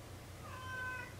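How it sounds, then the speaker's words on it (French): A pet cat meows close by in a quiet indoor room, one drawn-out call rising and falling over a low steady hum. "Ciao Minou, viens ici"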